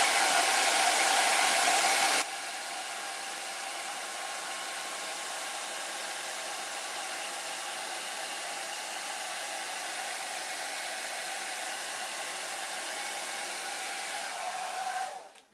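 Heat gun reheating edge banding on a wooden side table, a steady loud blowing whoosh running without a break, a bit stronger at first and then holding even before it cuts off.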